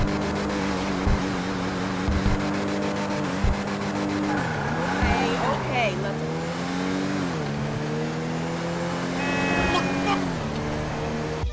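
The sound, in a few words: Cavalcade XL SUV engine and driving sound, from GTA Online video game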